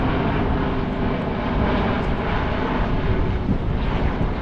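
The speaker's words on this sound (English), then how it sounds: "Planes go over your boat all day and all night." A loud, steady roar of a jet airplane passing overhead near an airport, heard from a boat on the Potomac River at Alexandria, Virginia, broad and continuous throughout with no voices.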